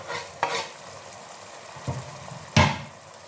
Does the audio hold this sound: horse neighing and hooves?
no